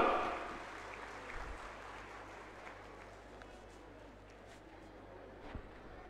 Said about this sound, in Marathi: वाजवा टाळ्या जोरदार